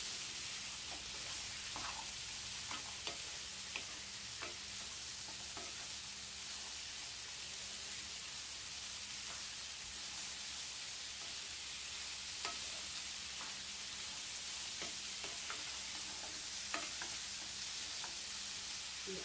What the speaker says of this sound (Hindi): चने और आलू को हम थोड़ा ही फ्राई करेंगे